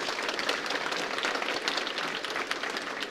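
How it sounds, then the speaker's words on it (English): A steady wash of clapping from a large indoor audience at a hog farmers' summit, dense and even throughout, with no talk over it. "Let's give her a round of applause."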